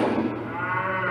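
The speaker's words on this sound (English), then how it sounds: "Oh, and a cow." A single cow's low, drawn-out moo carries steadily through the whole moment, loud and close, with no other sounds around it.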